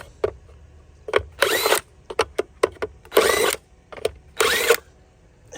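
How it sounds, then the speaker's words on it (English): An impact wrench fitted with an impact socket rattles in several short bursts, loud and close, as it loosens wheel center caps, with brief quiet gaps between each burst. "to get these center caps off, we're just gonna take one of these impact sockets and"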